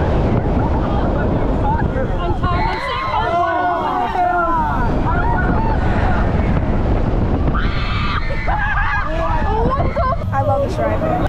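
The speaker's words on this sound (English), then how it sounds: "We're actually on Serengeti Flyer for our last ride of the day." Loud rush of wind buffeting the microphone aboard the Serengeti Flyer swinging ride at Busch Gardens Tampa, mixed with excited screams and shouting riders close by throughout.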